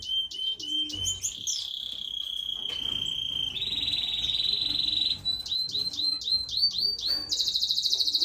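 Birds in an indoor bird room sing and chirp continuously, giving high sustained trills and rapid repeated tweets close by, with no talking.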